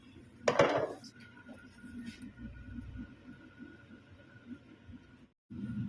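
Cooked Australian crab shifted from one pan into another, opening with a sharp metallic clatter of shells and cookware, then quieter shuffling and a low hum before the sound briefly cuts out.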